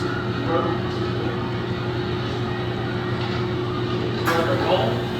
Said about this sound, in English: Compressor just kicked in